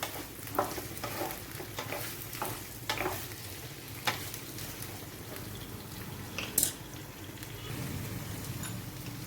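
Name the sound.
frying mango, carrot and chillies in oil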